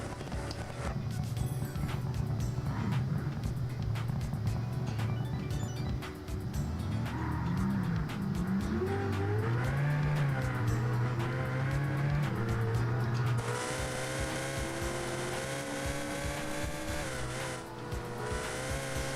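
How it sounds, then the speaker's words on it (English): Race car engine in a video game revving hard, a loud buzzing drone rising and falling through gear-like sweeps, then holding high near the end. "Just rev the shit out of it for a second."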